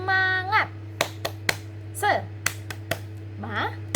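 Children in a Sunday school worship service clap a rhythmic cheer, sharp hand claps in a patterned sequence between bursts of a leader's sung chant, over a steady low hum.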